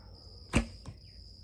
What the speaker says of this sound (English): Let me shoot the hay bale